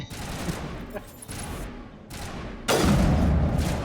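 Gunfire in Mass Effect 1 Legendary Edition: scattered shots and bursts crackle through a combat scene, ending in a louder, sustained blast of fire, with a voice speaking in between.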